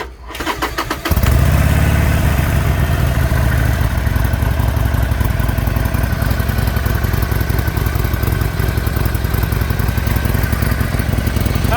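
A 2019 Harley-Davidson Sportster 48 (XL1200X) starts with a short crank, then settles into a loud, steady, close idle with an even, lumpy pulse that continues alone for about ten seconds.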